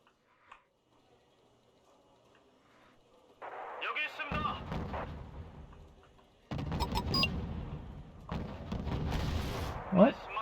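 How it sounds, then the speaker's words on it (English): Artillery and gunfire in the video game Wargame: Red Dragon, rumbling barrages and crackling shots building in two loud waves with a sharp blast near the end, mixed with a voice talking. "There's no reason for you to be firing that gun."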